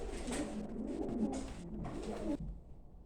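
Pigeons cooing close by, soft throaty rolling coos repeating over a low background hum, with a brief pause near the end.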